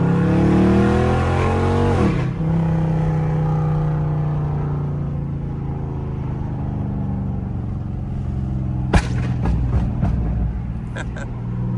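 Dodge Scat Pack muscle car engine rumbling loudly and revving in traffic, a steady low drone with a sharp pop near the end, heard close from inside the car.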